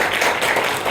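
An audience at a closing ceremony applauds, producing a brief burst of dense, continuous clapping at close range.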